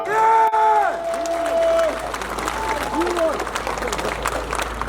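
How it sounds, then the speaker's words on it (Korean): A crowd at a Sejong election campaign rally applauds and cheers, a sustained wash of clapping and crowd noise with a voice over it at the start. "여러분들 박수 한번 보내주십시오."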